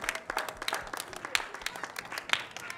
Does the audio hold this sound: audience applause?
yes